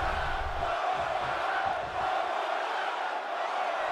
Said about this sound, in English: I believe the crowd is chanting one more time